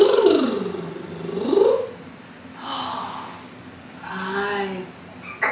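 A pet cat purrs up close in slow, rhythmic cycles, each breath in and out making a soft rumbling swell, with a voice nearby.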